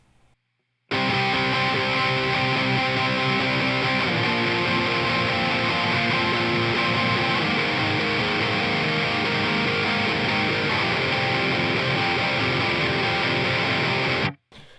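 Distorted electric guitar plays the chorus of a song, a loud, dense wall of strummed chords that starts abruptly after a brief quiet and rings on steadily before cutting off.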